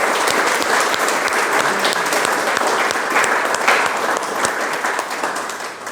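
An audience at a round-table event gives a loud, continuous ovation for the volunteer team, a thick wash of many hands clapping without pause or speech.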